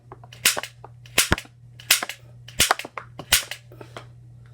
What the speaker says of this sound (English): That's where you fire the disc out.